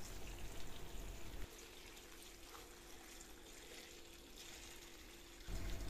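Clear limewater poured over pumpkin pieces in a very large bowl, a steady close splashing trickle of liquid running for several seconds with no talking.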